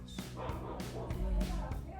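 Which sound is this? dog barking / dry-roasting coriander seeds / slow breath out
dog barking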